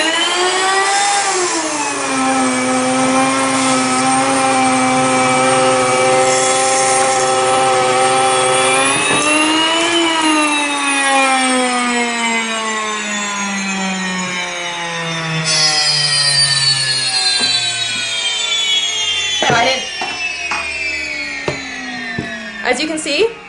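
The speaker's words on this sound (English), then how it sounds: "with the electric grinder, it's pretty foolproof. You turn it on before you fill it." A WonderMill electric grain mill grinds wheat into flour, a loud steady high-pitched whine with a motor tone that shifts pitch several times, continuous throughout with a few clatters near the end.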